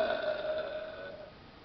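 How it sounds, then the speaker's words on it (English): A long, drawn-out burp at close range, held steadily for over a second before tapering off, with no talking over it. "Can we get a burp?"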